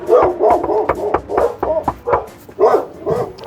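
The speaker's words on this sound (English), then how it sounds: "Couple dogs." A couple of dogs bark in repeated, close, loud bursts with short pauses between them.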